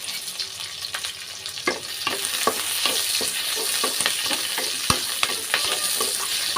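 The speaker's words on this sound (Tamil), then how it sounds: "இப்போ லைட்டாக வதக்கிக்கிடலாம்" Curry leaves, ginger, coconut pieces, onion and garlic sautéing in a pan, a constant sizzle punctuated by rhythmic scraping strokes of a spatula stirring the mix.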